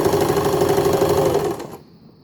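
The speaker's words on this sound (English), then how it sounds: "So stitch D, it's another zigzag stitch." An Empisal Dressmaker 270D sewing machine runs a zigzag stitch in a steady, close, loud mechanical hum for about a second and a half, then stops abruptly into near silence.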